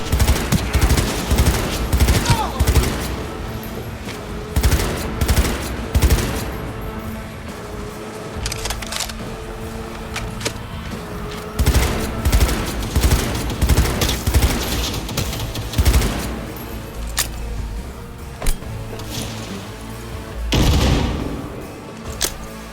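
Cyberpunk 2077 firefight: loud, sustained automatic gunfire in rapid bursts with heavy impacts and occasional booms, nearly continuous with brief lulls.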